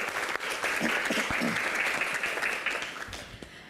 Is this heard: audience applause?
yes